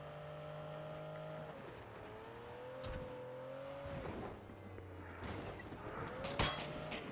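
Video game vehicle engines drone and shift pitch as cars drive close by, with a brief sharp burst near the end; no talking.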